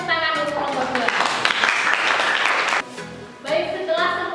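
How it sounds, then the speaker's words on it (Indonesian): Classroom applause for a student group after their presentation, a burst of clapping roughly a second and a half long that rises between bouts of talking, with voices before and after. "Kita berikan tepuk tangan untuk kelompok 2"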